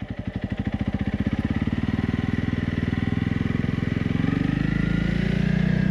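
Honda CRF 300 Rally motorcycle riding off-road, its engine throbbing in a steady rapid pulse that rises and smooths as it accelerates, loud and close throughout.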